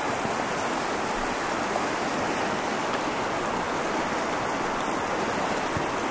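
Snowy winter river flowing, a steady broad rushing wash of water, close and constant, with no voices.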